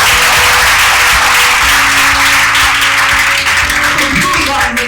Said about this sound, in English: If you're happy and you know it, give yourself a big clap.